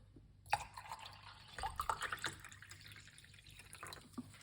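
Water pours and splashes into a container in a short burst, fairly quiet and close, followed by light dripping.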